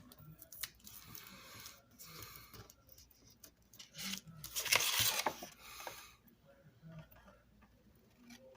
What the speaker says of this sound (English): We're going to go ahead and cut these edges off.